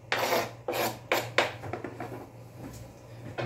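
Tomatoes being grated by hand for a home-cooked dish, heard as several loud rasping strokes in quick succession near the start, thinning to softer scrapes, with a steady low hum underneath and no talking.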